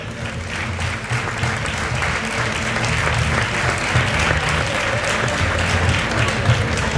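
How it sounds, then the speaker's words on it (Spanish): A crowd claps loudly for the top five finishers on the podium at the XIV Tramo de Tierra Cierru Los Pinos rally awards ceremony, a sustained, dense outdoor ovation that holds steady for seven seconds. "Fuerte aplauso."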